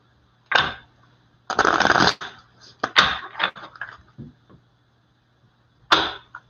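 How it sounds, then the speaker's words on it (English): Several bursts of tarot cards being shuffled and riffled, quick flutters separated by short pauses, close and clear. "Let me shuffle the cards."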